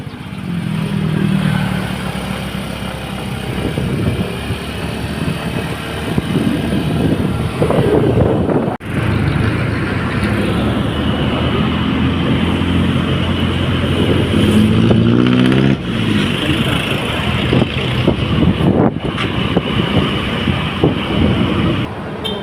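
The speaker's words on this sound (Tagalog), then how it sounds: "Ulit kami sa motor na kami." A motorcycle ride outdoors, with a loud, continuous engine drone and wind rush that hold for the whole stretch, broken only by brief dips.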